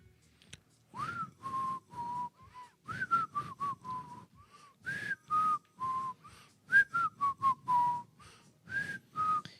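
A person whistles a tune in short, clear, repeated notes and phrases with brief pauses between them, heard alone and fairly close.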